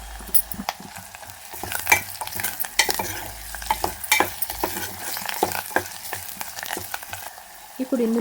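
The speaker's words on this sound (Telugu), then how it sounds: "వేసుకుని పచ్చివాసన పోయేంత వరకు వేపుకోవాలి" Onion and ginger-garlic paste fry in a pan while a utensil stirs and scrapes with steady rhythmic strokes, under a continuous close sizzle.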